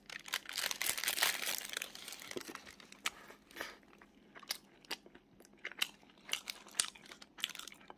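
Someone bites into and chews a cookie-topped choux pastry, crunchy and close up, with crinkling at first followed by a steady run of crisp bites and chewing.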